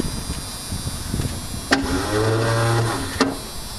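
Older car engine starting in warm weather, a short starter crank followed by the engine catching and running steadily for about a second before a sharp stop-click.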